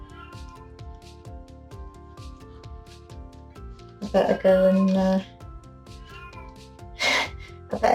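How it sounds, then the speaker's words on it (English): An unhappy blind cat meows loudly twice over a steady rhythmic background, one long cry near the middle and a shorter one later, while a person speaks briefly nearby. "oh dear, my cat's not very happy."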